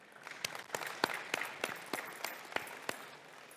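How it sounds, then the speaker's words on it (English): A ceremony audience applauds parents at a nurse aide pinning ceremony, a modest round of clapping with sharp individual claps standing out, fairly distant and quiet, with no speech. "So please give your parents a round of applause too"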